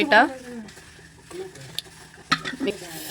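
Soft stirring and light scraping of jaggery in a pot, with a brief sizzle and a few small clinks of utensils, fairly close and quiet.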